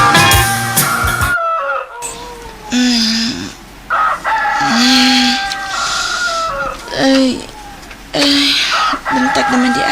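A rooster crows loudly and repeatedly at close range, several drawn-out cock-a-doodle-doo calls with short gaps between them, with some clucking around them.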